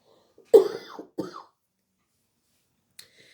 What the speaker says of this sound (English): I am so sorry about all the coughing